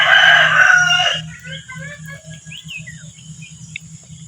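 Young crown-combed roosters about five months old crow loudly up close in a short burst, followed by softer clucks and chirps over a steady low background hum.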